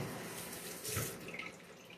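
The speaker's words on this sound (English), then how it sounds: "let me rinse my hands off real quick here" Water runs from a kitchen faucet as hands are rinsed beneath it, a close, splashy stream with a brief louder gush midway, no voices.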